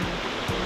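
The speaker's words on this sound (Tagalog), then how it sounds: "may batis" A flowing mountain stream near a trail by Buscalan village, a steady close rushing wash of water with no voices over it.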